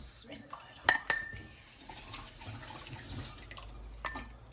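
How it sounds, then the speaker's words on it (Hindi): A ladle clinks against a pot and bowl while chicken hot and sour soup is served, with a few bright metallic knocks early on and soft liquid sounds afterward. "we're just dishing out the chicken hot and sour"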